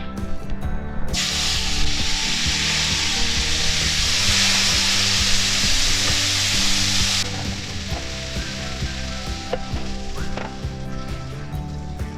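Bacon frying in rapeseed oil in a pan, a loud dense sizzle for several seconds that then drops to a quieter spit and crackle with occasional scrapes.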